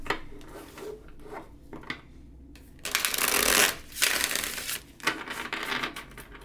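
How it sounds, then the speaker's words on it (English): Someone shuffles a gilded tarot card deck close by, with soft rustling and riffling strokes building into a louder, crisp burst of cards sliding and snapping together, then easing into quieter shuffles. "Let's shuffle a card and get into it."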